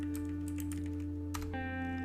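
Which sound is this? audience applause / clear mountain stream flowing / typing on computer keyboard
typing on computer keyboard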